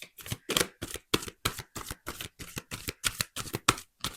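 Tarot cards shuffled in a rapid, steady riffle, about a dozen sharp evenly spaced flicks, close and crisp with no talking.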